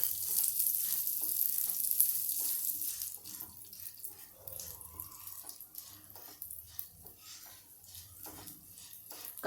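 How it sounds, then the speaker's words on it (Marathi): Urad dal dry-roasting in a pan for a cucumber uttapam gives a steady hiss and sizzle that is loudest at the start and then settles into a lighter crackle, with no talking. "आधी हे उडदाची डाळ मी भाजून घेते लागलीच लाल होते ही"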